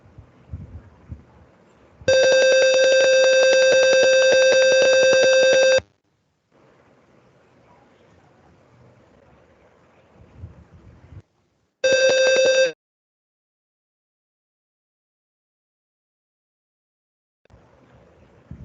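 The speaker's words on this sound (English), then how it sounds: "as the motion is detected, the LED is being lit and the buzzer is sound" A simulated motion-detection circuit buzzer sounds a loud electronic tone for about four seconds, falls silent, then gives a second, shorter one-second burst, with faint background noise between.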